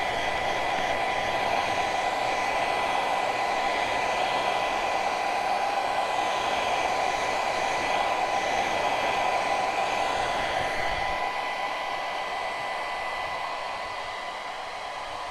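Hair dryer blowing on a handmade craft piece, a continuous loud whooshing roar that runs steadily for about fifteen seconds and eases slightly near the end, with no talking.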